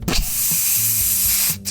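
A spray can lets out a steady, close hiss lasting well over a second, with a brief puff before it and a short second burst at the end, over faint low tones.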